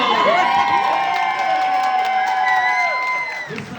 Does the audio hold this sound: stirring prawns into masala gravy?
no